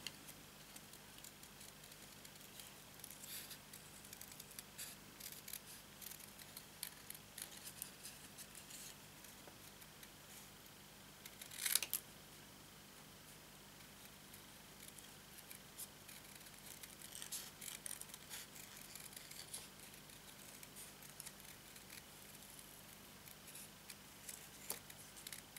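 Paper being cut with scissors while crafting a rounded wedding favour box, a soft, steady run of faint snips and rustles with one brief sharper click partway through.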